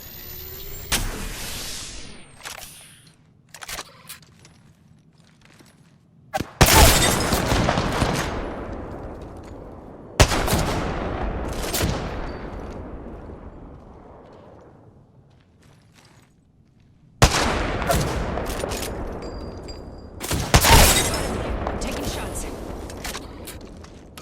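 Gunfire from the Apex Legends video game comes in several loud bursts of rapid shots with sharp onsets that trail off, separated by quieter stretches of game ambience.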